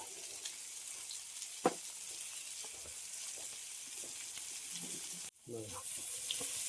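Bangda fish frying in oil on a traditional village wood-fired stove, a steady soft hiss of sizzling with a sharp knock and a brief dip as the pan is handled, close but quiet, no talk.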